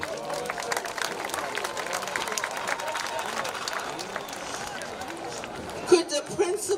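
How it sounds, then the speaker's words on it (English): Applause for teachers fills a high school graduation ceremony at Mount Vernon High School, a steady wash of clapping from a large crowd with murmuring voices, swelling briefly near the end. "Let's applaud our teachers."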